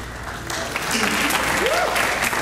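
Applause from a seated audience at a spring band concert fills the space, steady dense clapping that swells slightly, with some voices and a faint whistle-like tone mixed in.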